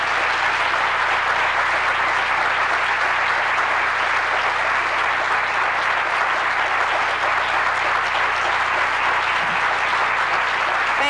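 A lecture audience at Ball State University claps steadily to welcome speaker Anna Deavere Smith, a dense, sustained wash of applause from a large crowd with no speech over it.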